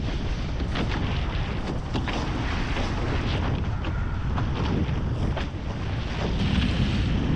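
A foiling A-class catamaran sails under way in a long-distance race, with steady buffeting wind roar on the microphone and hissing water rushing past the hull, continuous and close with no talking.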